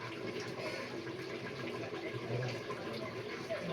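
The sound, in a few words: biryani pot boiling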